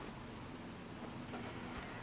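Steady rain in the video game Little Nightmares 2, a continuous close hiss of drops falling on surfaces with faint low rumbles underneath, unbroken for the whole stretch and with no voices over it.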